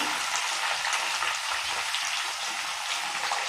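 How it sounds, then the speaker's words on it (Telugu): Chillies fry in oil with a loud, even hiss of sizzling that runs unbroken for a few seconds, close up and without speech. "తర్వాత ఈ మిరపకాయలు వేస్తాను. దీన్ని వేయించాలా."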